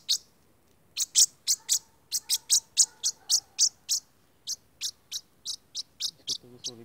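A wild bird just freed from a poacher's net near Brescia gives a run of sharp, high chirps in a steady rhythm, close and clear with quiet gaps between calls, no voices.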